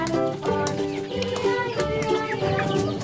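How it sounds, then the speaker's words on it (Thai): Chickens at a family home clucking and squawking in alarm, a busy, loud jumble of overlapping calls close by without pause. "ดูไก่ตกใจหมดเลย"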